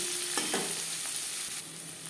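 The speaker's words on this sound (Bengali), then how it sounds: "পাঁচফোড়ন তেজপাতা ভেজে নেওয়ার পর দিয়ে দেবো পেঁয়াজ কুচি" Chopped onion added to hot oil with bay leaf and Bengali five-spice, a continuous close sizzle with a few soft stirring scrapes.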